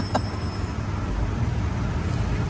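Busy Bangkok street traffic with tuk-tuks among the vehicles, a steady low rumble of engines and road noise close by, with one brief sharp sound near the start.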